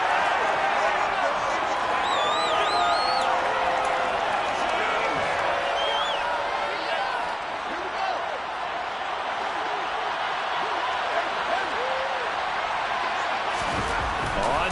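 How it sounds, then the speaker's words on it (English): Stadium crowd in Madden NFL 21 shouting and cheering steadily as a replay plays, a dense continuous roar with scattered calls, heard throughout at fairly constant loudness. "Plenty of shouts from this crowd as they watch the replay."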